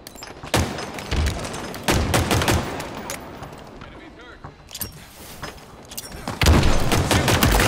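Gunfire from the multiplayer video game Halo Infinite, with repeated bursts of shots and heavy thuds in separate volleys, loud and close, with short quieter gaps between them.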